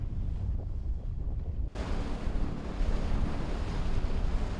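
Strong sea waves churn off the Gijang coast in Korea near seaweed farms, with a steady heavy wash of surf and wind buffeting the microphone, heard out on open water.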